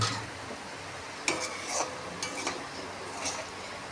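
A spoon stirs boiled dal and a small potato through fried masala in a pan, a steady close scraping and soft bubbling with a few sharper knocks against the pan, and no voices.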